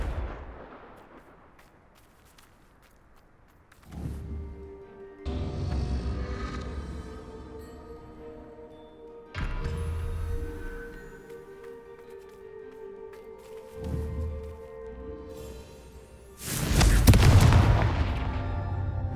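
Blasting Confringo spells go off in Hogwarts Legacy on Xbox Series X, with several booming explosive bursts spaced across the passage amid ambient game music, the last blast loudest and closest.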